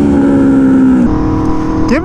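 Aprilia Tuono V4 motorcycle engine held at a steady high drone in second gear during a wheelie, with the pitch dropping briefly near the middle and rising again at the end, loud and close.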